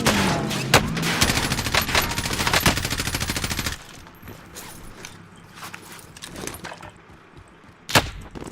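Kriss Vector submachine gun in Call of Duty Warzone fires dense, rapid automatic bursts for several seconds, then gives way to quieter scattered shots, mechanical clatter and one sharp loud crack near the end.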